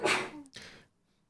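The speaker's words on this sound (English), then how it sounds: "Gesundheit" A single sneeze, a sharp burst of breath followed by a short gasping tail that fades quickly into quiet, close to the microphone.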